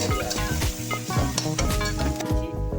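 Chopped onion frying in a pan with a loud, continuous sizzle right up close, broken by scraping and clinking from stirring, and no talking.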